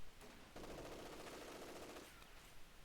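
Sustained burst of MG42 machine gun fire in a Company of Heroes battle, a steady rapid rattle lasting about a second and a half amid background battle noise, no talking.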